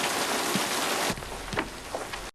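Heavy rain in the 1960 film Psycho, a dense steady hiss that drops to a lighter patter partway through, with scattered drip-like taps.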